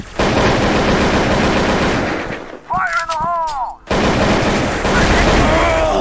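Gunfire from a mobile shooter video game, with loud dense bursts that fill most of the clip and break off briefly midway. Game sound effects can be heard in the gap, and someone talks over the shooting.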